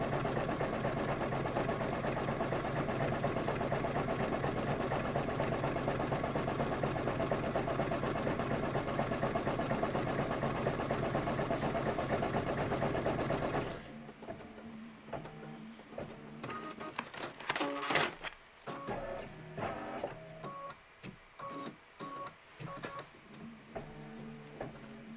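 Embroidery machine stitching a design, a steady fast mechanical whir and buzz that runs continuously for several seconds, then stops and gives way to scattered handling clicks and rustles.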